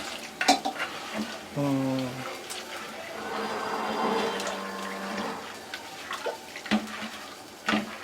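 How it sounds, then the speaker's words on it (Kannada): Gram flour batter stirred with water in a bowl, a steady wet swishing and sloshing that runs through most of the clip, with a person talking over it and a few sharp knocks. "ನೀರ್ ಹಾಕೊಂಡು ಸ್ವಲ್ಪ ಕಲ್ಸ್ಕೊಡೋಣ ಓಕೆ ಗಂಟಾಗುತ್ತೆ ಗಂಟಾಗುತ್ತೆ ಕಡ್ಲೆ ಹಿಟ್ಟು ಹಾಕಿರ್ತೀವಲ್ಲ"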